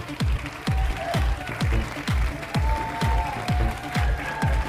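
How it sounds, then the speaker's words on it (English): A pageant audience applauds for the top five finalists in a teen beauty competition finals, heard as loud rhythmic thumps with a driving beat and cheering mixed in, the clapping partly buried under the music. "Another huge round of applause"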